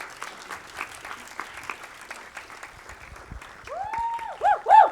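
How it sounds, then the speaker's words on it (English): Audience applause at a film festival award ceremony, steady clapping from a hall crowd that swells near the end as sustained tones rise over it. "Please keep the clapping going"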